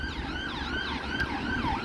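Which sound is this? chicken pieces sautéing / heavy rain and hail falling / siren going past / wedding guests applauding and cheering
siren going past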